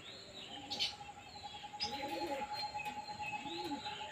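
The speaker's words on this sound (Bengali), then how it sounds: "আটটি পায়রা একসঙ্গে হয়ে গেছে" Faint, distant cooing from a flock of pigeons comes in soft rounded phrases over a hissy outdoor background, joined by a few brief higher chirps and no voices.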